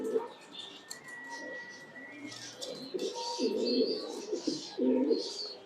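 Yellow and red fancy pigeons at a breeding loft coo in soft, repeated throaty phrases close by, several bursts overlapping, with scattered chirps and rustling around them.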